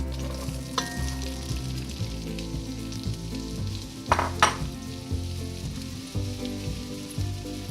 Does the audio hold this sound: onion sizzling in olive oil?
yes